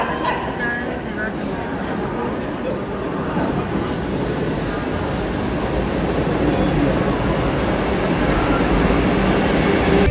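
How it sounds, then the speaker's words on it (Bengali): A train pulls into a busy station platform on a journey to Kolkata, its low rumble and rolling clatter building steadily and continuously, with a faint high squeal of wheels and crowd noise around it. "ট্রেন চলে এসেছে গাইজ"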